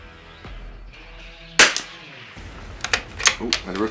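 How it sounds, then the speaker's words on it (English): A loud crack from a Christensen Arms Ranger carbon fibre rifle, with the bullet ricocheting, followed by several lighter clicks and snaps close by. "oh, and a ricochet there."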